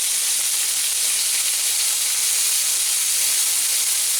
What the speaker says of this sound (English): when you hear that pan sizzling, you know there is good things going on